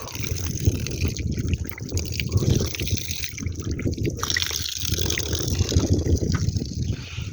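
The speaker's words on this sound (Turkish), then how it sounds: "orijinal suyu buz gibi suyu akıyor" Ice-cold mountain spring water flows steadily in a high, snowy mountain setting, a continuous close trickling and gurgling that runs unbroken without voices.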